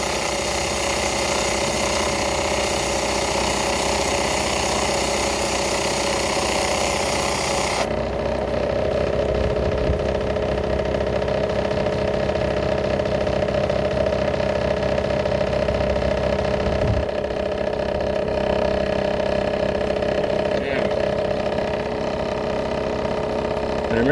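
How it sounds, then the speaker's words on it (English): A flat lap grinds down the broken end of a smoky quartz tower, giving a steady, loud motor hum with a continuous grinding hiss that runs unbroken throughout. "I prefer using a flat lap than anything else for something like this"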